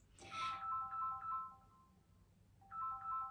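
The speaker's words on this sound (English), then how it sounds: "That's my phone ringing." A phone ringtone plays a faint, repeating electronic melody of short beeping notes in two bursts separated by a brief pause, with no one talking over it.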